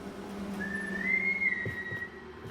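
The whistling man in the horror game Killer Frequency whistles a single sustained, slightly wavering note that rises then levels off, over a low background hum with faint thuds.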